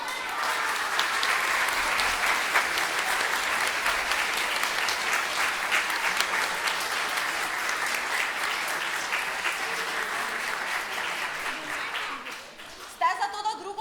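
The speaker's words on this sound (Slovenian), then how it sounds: "Si zaslužijo vsi skupaj še en aplavz?" Sustained audience applause at a regional kindergarten choir festival, a dense, steady wash of clapping from a large crowd lasting over twelve seconds before fading out into a few scattered claps and noises.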